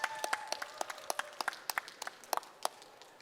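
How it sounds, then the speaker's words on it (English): Sparse, distinct handclaps from a small event audience, quiet and fairly distant, with individual claps clearly separable across a few seconds. "so let's give them a round of applause."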